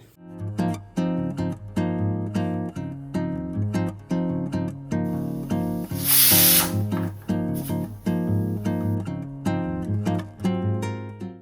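A pressure cooker on a low flame vents steam from its side with a steady rhythmic rattling pulse, then a louder burst of hiss partway through, close by and with no talk.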